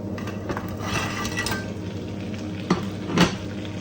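Crabs going into a pan of butter garlic sauce, with a steady sizzle and frying hiss under a couple of clinks and scrapes of utensils against the pan, close and without speech.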